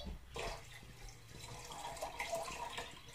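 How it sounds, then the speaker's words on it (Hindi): Three cups of water pour and splash into a pot nearby, a continuous soft gurgling stream with no talking. "तीन कप पानी डालू।"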